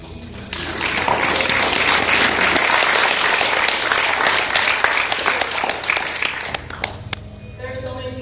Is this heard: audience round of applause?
yes